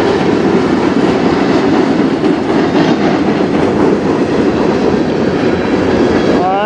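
A train passes overhead with a loud, steady rumble and clatter of railcar wheels filling the whole stretch, ending with a brief high wheel squeal.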